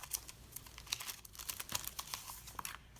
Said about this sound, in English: I'm just going to grab my little Instagram sticker.